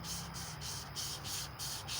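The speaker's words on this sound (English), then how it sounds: "as you're sanding it down some." Emery cloth sanding the crankshaft of a Chevy 350 small-block engine, a steady rhythmic rubbing with a stroke roughly every third of a second, close and continuous with no talking.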